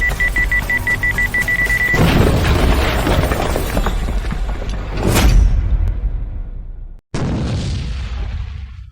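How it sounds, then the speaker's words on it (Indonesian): A high electronic beeping tone counts down, then a rushing burst and a deep booming explosion in an animated monster fight at an ancient tomb, followed by a sudden cut and lingering rumble. "Akan meledak."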